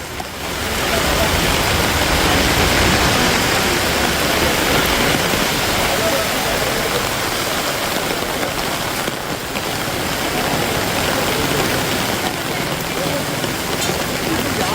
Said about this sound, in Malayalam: കാസർഗോഡ് ജില്ലയിൽ ഇടവിട്ട് ശക്തമായ മഴ പെയ്തുകൊണ്ടിരിക്കുകയാണ്